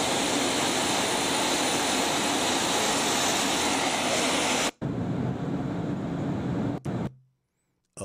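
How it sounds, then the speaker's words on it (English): Cargo jet aircraft engine, a loud continuous roaring rush that cuts off abruptly, resumes more quietly, then falls to silence near the end. "this shit really is a cargo jet"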